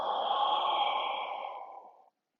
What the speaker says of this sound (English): So now bring air in, inhale, and exhale.